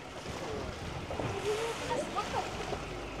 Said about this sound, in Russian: большая волна сильно качает катер и закидывает воду